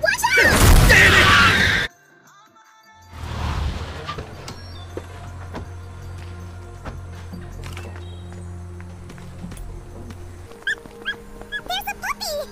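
A puppy barks and whimpers in a zombie survival video game, sharp short yelps rising near the end over a steady low droning score and scattered game effects, after a burst of loud action at the start.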